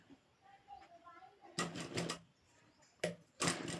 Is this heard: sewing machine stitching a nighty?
yes